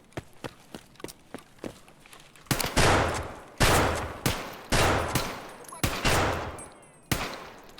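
Gunfire in Escape from Tarkov SPT: a run of sharp single shots early on, then a series of louder, heavier blasts with ringing decay, close and spaced irregularly, ending on a headshot kill.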